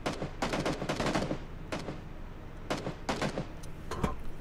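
Gunfire in the PUBG Battlegrounds video game rings out in slow, spaced bursts of sharp reports, several clusters over a few seconds, fairly loud and close, with no speech.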